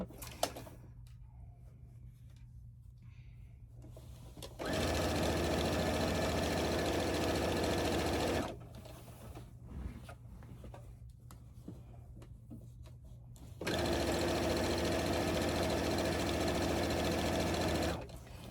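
Domestic sewing machine stitching binding along a quilt edge, two sustained runs of steady mechanical whirring and needle chatter, with a quiet low hum and faint handling in the gaps between runs.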